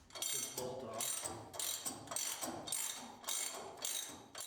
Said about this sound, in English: In order to put that on, you'll have to take this bolt off.